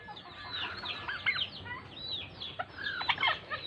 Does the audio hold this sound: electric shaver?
no